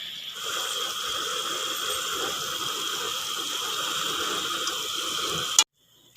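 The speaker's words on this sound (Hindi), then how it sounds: "तो अभी पानी में उबाल आना शुरू हो चुका है।" A pot of water with vermicelli coming to a boil on low heat, giving a steady close hiss and bubbling that carries on evenly, then cuts off abruptly near the end.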